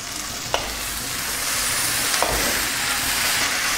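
Onion and tomato frying in a pan while being stirred, a loud close crackling sizzle with a few sharp scrapes of the spoon against the pan, no voices.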